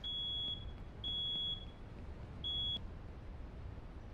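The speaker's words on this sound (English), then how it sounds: "Oh, it was just a fire alarm." A fire alarm beeps in the firefighting video game Into The Flames, three high electronic tones of about half a second each, evenly pitched and fairly faint over low background rumble.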